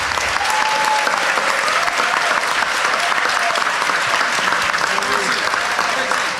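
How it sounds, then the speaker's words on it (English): Loud, dense applause from an audience at a county executive candidates forum, continuous clapping throughout with some crowd voices mixed in. "Everyone, can we give the candidates a round of applause?"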